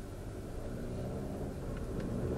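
Alfa Romeo Stelvio SUV with an 8-speed automatic gearbox pulling away in first, a low, steady engine rumble heard from inside the car, with a couple of faint ticks.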